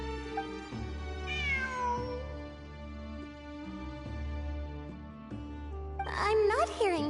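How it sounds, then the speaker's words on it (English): A cat meows in a video game, with a couple of rising, drawn-out meows over layered game music and ambient tones, the last one louder near the end. "It really is a cat."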